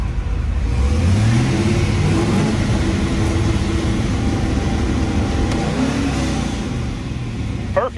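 Drag car engine held on two-step launch control, revving hard and popping in a sustained, loud, close drone that climbs early on and then holds steady at high revs.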